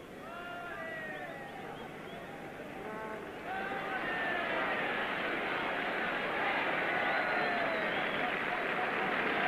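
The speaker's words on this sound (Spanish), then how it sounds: "Los aplausos." A large stadium crowd at a 1985 Argentina–Chile football friendly roars and applauds, the sound swelling noticeably partway through into a dense, distant wash of cheering, with a commentator talking over it in Spanish.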